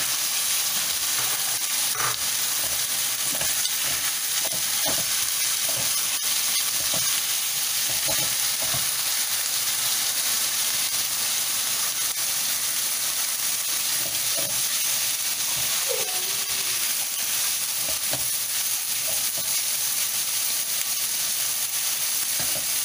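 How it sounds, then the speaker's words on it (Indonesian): Chicken and carrot stir-frying in a pan give a steady, loud sizzle throughout, with faint scraping taps of stirring now and then. "tumiskan sampai ayamnya itu sudah kering ya"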